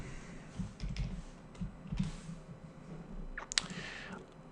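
Typing on a computer keyboard while writing JavaScript, a soft irregular run of key clicks with a sharper tap near the end, close and fairly quiet.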